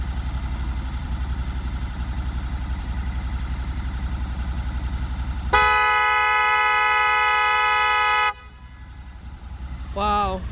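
Farbin car horn sounds a single long, loud, steady blast over an idling engine rumble, cutting off abruptly after about three seconds, followed by a brief quieter tone as the engine continues.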